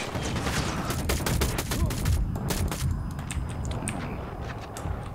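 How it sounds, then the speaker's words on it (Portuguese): Bursts of rapid automatic gunfire aimed at the player in a video game bank heist, loud volleys crowding the first half and then thinning to scattered shots. "Que tá me dando tiro?"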